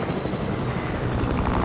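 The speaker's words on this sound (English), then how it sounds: "Can I hear the helicopter still?" A helicopter in the video game Fortnite produces a steady, close, continuous rotor and engine rumble with a broad noisy drone that stays at an even level throughout.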